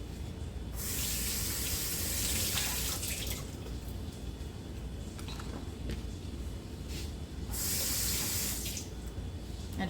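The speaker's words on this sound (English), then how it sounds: "I can wash this ginger." Ginger root being rinsed under a running kitchen tap, a steady close rush of water into the sink with brief surges, no talking.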